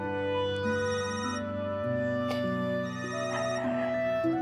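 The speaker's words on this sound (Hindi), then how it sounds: "तुम्हारा फोन बज रहा है" A melodic electronic ringtone plays steadily, its tones stepping up and down in a looping tune, with no talking over it.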